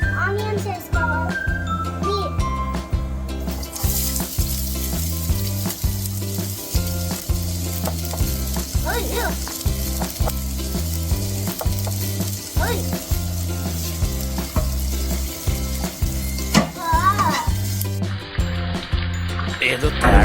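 Onions fry in oil with a continuous sizzle that carries on for the whole stretch. A rhythmic background beat and occasional clinks run alongside it, and a voice talks briefly over the cooking.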